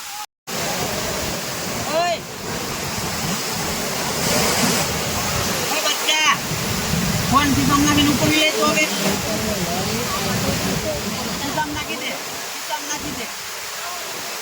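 Water rushes over the overflowing Shetrunji Dam near Palitana in a loud, continuous roar, churning and splashing close by, with voices faintly audible beneath it.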